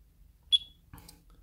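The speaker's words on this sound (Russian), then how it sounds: "Либо включить, и тогда будет прибор при нажатии клавиши сдавать сигнал." A skydiving altimeter gives one short, high-pitched electronic beep on a key press, fairly faint, followed moments later by a soft click in a quiet setting.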